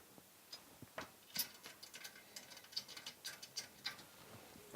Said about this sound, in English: And then tighten up using the screwdriver.